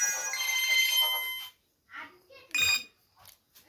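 A mobile phone ringtone plays a loud, bright melodic ring for about a second and a half, then stops, followed by a few short bursts of voices.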